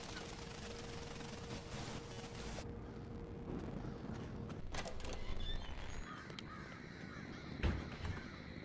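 Crows cawing in the Pineview Drive video game, harsh calls over a dark ambient bed with a few sharp cracks and a louder thud near the end, speech faintly mixed in.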